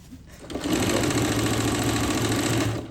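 A Singer sewing machine runs a steady stretch of stitching, its fast, even mechanical whir starting abruptly after a brief quiet moment and holding close and loud until it eases off at the end.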